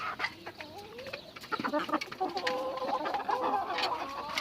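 Several chickens cluck and chatter close by, with busy overlapping calls and a few higher squawks from roosters mixed in.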